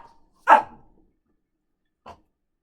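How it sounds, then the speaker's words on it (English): A dog gives one short, sharp bark nearby, followed a moment later by a fainter single woof, in an otherwise quiet indoor setting. "The big dogs are woofing, so she had to woof too."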